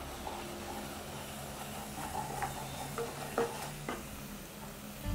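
Chili powder goes into tomatoes frying in a curry pan for mutton curry, giving a soft, steady sizzle with faint stirring and scraping close by, quiet and without speech.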